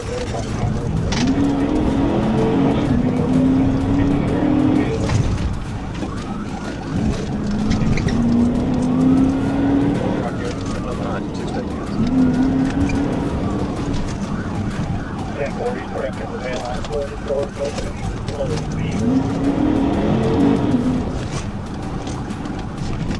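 A fleeing car speeds across residential yards during a police chase, with a steady, loud engine and road roar and rising and falling siren-like wails throughout.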